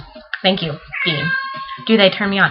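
A cat lets out drawn-out, wavering howls that overlap with a person talking close by, the yowls rising through the speech in two or three stretches.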